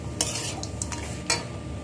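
A spoon stirs a mixture of coriander leaves and fried peanuts, giving a quiet, continuous scraping with two brief sharper clinks against the bowl and no talking.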